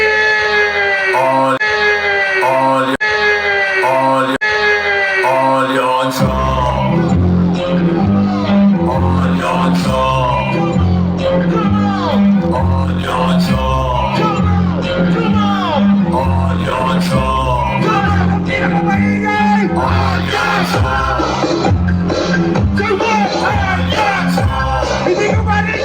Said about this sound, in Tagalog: Isang malakas na sigawan para kay